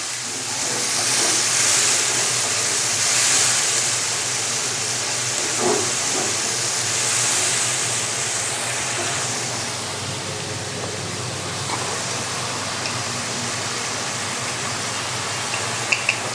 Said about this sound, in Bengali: মশলাটা আমি ভালো করে কষে নেব, একত্রে ভালো করে কষে নেব।